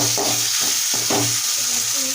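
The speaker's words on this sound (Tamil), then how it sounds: "இப்போ தக்காளி போட்டுக்கிறோம். தக்காளி போட்டு அது கொஞ்சம் நேரம் வேகட்டும்." Tomatoes hit hot oil with ginger garlic paste and onions for a Tamil-style chicken curry, giving a steady close sizzle and frying hiss with a few stirring scrapes.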